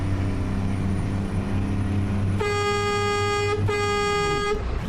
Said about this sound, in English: I think my horn is loud enough.